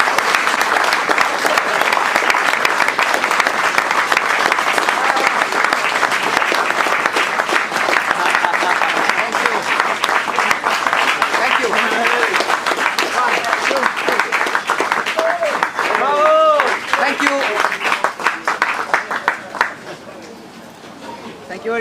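A room of Jordan Grand Prix team members and guests applauds at length for driver Giancarlo, sustained dense clapping mixed with cheers and whoops, with voices rising over it near the end before it fades.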